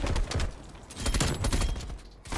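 Rapid, loud bursts of automatic gunfire in Call of Duty: Black Ops Cold War, sharp shots clustered close together across the whole clip with no talking.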